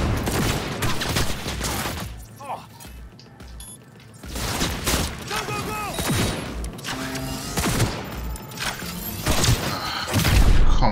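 Gunfire in the video game Cyberpunk 2077: bursts of shots and impacts crackle in clusters over a busy game mix with explosions and clanking mechanisms, loudest toward the end.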